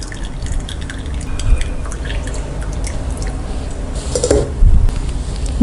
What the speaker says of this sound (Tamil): தண்ணியை நல்லா வடித்து எடுத்துடணும்.